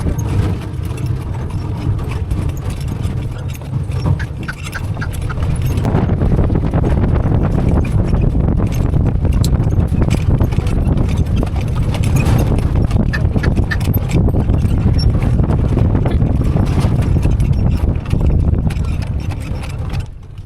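Hooves clip-clop during a horse ride at a scenic cave site, set in a dense, continuous wash of noise that may include a running engine.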